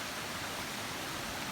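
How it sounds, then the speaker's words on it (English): Small waterfall spilling into a creek in the Dolly Sods backcountry in early fall, a steady close wash of broadband rushing water with no voices. "Nice little waterfall."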